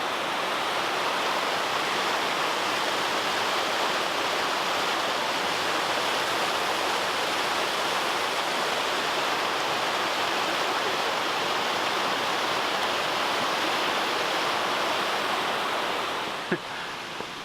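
Victor Falls in Bonney Lake, Washington pours in a loud, steady broadband roar of falling water, continuous and close with no voices, easing off slightly at the very end.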